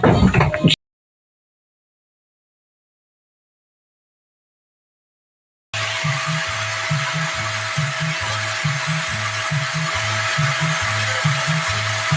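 A short burst of machine noise cuts to silence, then an electric grinder whines steadily with a pulsing low drone, loud and close, during a DIY job freeing a stuck motorcycle fork cap.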